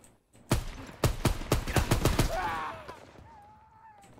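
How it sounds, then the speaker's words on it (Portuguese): A rapid burst of about eight loud gunshots in quick succession in Call of Duty: WWII, followed by a fading ring and a short electronic tone, game-style. "Tu viu quanto tiro eu dei nele?"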